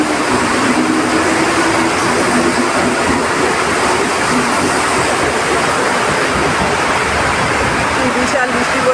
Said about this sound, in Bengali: বিশাল বৃষ্টি পড়ছে বন্ধুরা